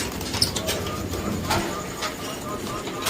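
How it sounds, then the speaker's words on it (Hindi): Punjabi pigeons coo softly amid a busy, noisy background at a pigeon market, with a brief chirp early on and steady low murmuring throughout. "इधर पंजाबी कबूतर है"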